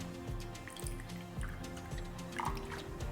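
Soy sauce being poured for a chop suey sauce, a quiet sequence of small drips and liquid trickles landing in a bowl, close and soft, with no talk.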